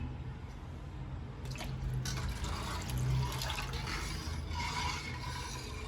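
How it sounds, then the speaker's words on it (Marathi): Water being poured into a pot of Shrigonda-style Maharashtrian amti curry to thin it, a soft, fairly faint trickling and splashing that swells and eases over several seconds. "हवं तेवढं पाणी घालून पातळ करायची"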